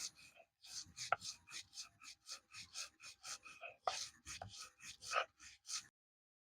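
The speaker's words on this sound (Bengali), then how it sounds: "পাটার উপরে দিলেই মাছটা মসমস করে কি সুন্দর শব্দ হচ্ছে" Fish and ghetkol being ground together on a stone grinding slab, a steady series of close, rhythmic rubbing and crunching strokes, about two or three per second, with no talk.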